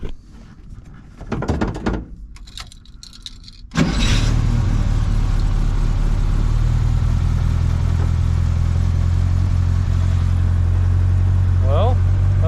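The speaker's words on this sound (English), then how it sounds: "This thing starts right up." An older car's engine cranks and catches after wiring repairs and a new fuse block, then settles into a loud, steady idle close by, following some clunks and a brief voice before it starts.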